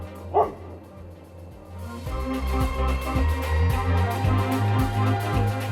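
Thin neighborhood dogs bark in a series of repeated yapping bursts at moderate distance, the barks overlapping and continuing steadily.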